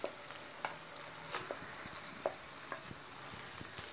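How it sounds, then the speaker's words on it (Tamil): Marinated chicken pieces dropped into a sizzling tomato masala and stirred, a steady frying hiss broken by scattered clinks and scrapes of a spoon against the pan, close and with no talking. "இப்போது இதில் நம்ம மேரினேட் பண்ணி வச்சுருக்கிற சிக்கன் பீசஸாக ஆட் பண்ணிக்கலாம்"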